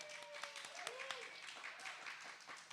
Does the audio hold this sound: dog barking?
no